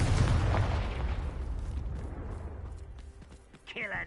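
Confringo fire spell blast in the Hogwarts Legacy video game: a loud, booming fiery burst that decays over a few seconds into a rumbling tail, followed by a short voice at the end.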